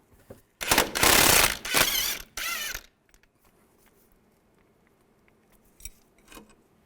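A 15mm socket and wrench work a bolt loose on the front CV axle of a 2002-2009 Chevy Trailblazer. Loud, rapid ratcheting clicks come in close bursts, followed by quieter metallic handling.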